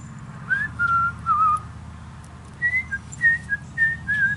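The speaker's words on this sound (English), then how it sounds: "I know, I whistle all the time." Someone whistles a short tune nearby, two breezy phrases of quick, bright notes separated by a brief pause.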